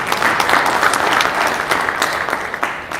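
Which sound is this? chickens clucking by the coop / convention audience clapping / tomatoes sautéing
convention audience clapping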